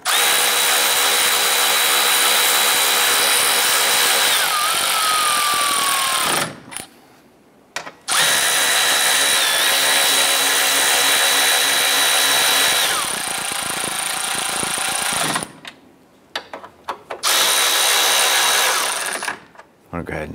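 A power drill snugs down bolts on a 2011-2018 Dodge Ram 1500 front bumper, loud whirring bursts of several seconds each, separated by short pauses, with a rising whine as each bolt tightens.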